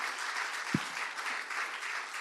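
A church congregation applauds during a family worship service, a steady wash of clapping that continues throughout, with one brief low thump partway through.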